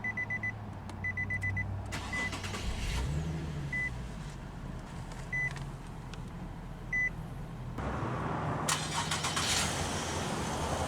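A 2018 Nissan 370Z coupe started with its push-button ignition: chimes beep, then the engine cranks and catches into a steady close idle that swells louder near the end.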